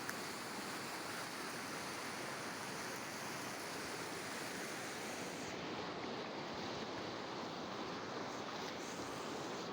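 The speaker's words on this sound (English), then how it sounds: "It's a permanent river, and as you can see right now it's full to its bank, and this river is very dangerous." A fast-flowing river running full to its banks in a Kenyan forest rushes steadily and loudly throughout, a dense unbroken roar with no voices.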